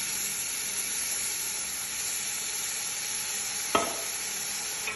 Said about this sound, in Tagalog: Halu-haluin ko habang mag-white yung meat